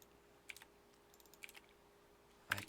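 Sparse keystrokes on a computer keyboard, a few isolated clicks roughly a second apart, then a louder burst of quick presses at the end, close and otherwise quiet.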